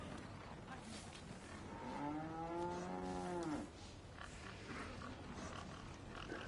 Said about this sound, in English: What's up, cows?